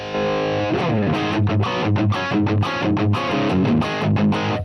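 Electric guitar through a Kinky Boost distortion effect on a Line 6 Helix, crunchy and boosted, a sustained chord opening into rhythmic strummed chords, loud and continuous with no voices.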